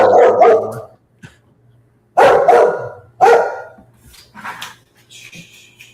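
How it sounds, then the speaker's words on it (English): A dog barks loudly and close by in a home as people come up to the door, giving several sharp bursts with short gaps between them and a fainter whimpering yip toward the end. "when people come up to my door, my dog will just start going"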